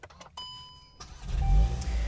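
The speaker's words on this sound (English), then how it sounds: "this vehicle is not a hybrid or a mild hybrid, so it has a very traditional starter noise" A 2025 Volkswagen GTI, a non-hybrid hot hatch, starts by push button: soft electronic chimes, then a short conventional starter crank, and the engine catches into a low, steady idle rumble.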